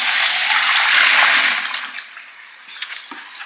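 A washing machine fills with cold water for a rinse, producing a steady rushing hiss that tapers off after a couple of seconds, followed by faint clicks and drips.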